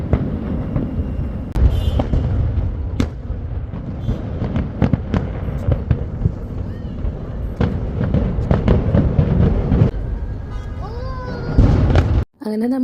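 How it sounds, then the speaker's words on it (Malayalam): New Year fireworks go off at midnight in a long run of booming bangs and sharp crackles, some near and some farther off, with voices heard among the blasts. "കറക്റ്റ് 12 മണിക്ക് തന്നെ ഫയർ വർക്ക്സ് ഒക്കെ സ്റ്റാർട്ട് ചെയ്തു."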